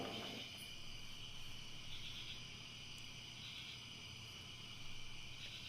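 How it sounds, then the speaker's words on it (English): Crickets chirp steadily in a quiet night setting, a faint continuous high trill with no voices, lingering after a Shabbos kiddush blessing. "I like how they added the crickets at the end of that recording"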